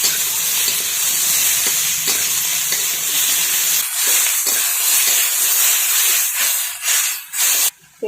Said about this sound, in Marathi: कढईमध्ये मी आता कांदा टाकून घेत आहे, तेल टाकून घेत आहे